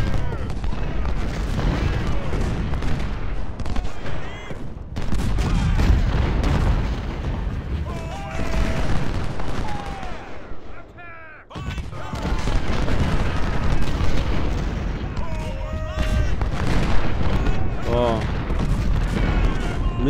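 Cannon fire in the Civil War strategy game Ultimate General: Civil War at the Battle of Chancellorsville, with repeated booming artillery blasts and battle noise running through most of the stretch and a brief lull midway, under someone talking.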